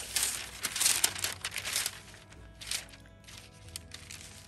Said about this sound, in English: you're going to cut a diagonal cut at each 4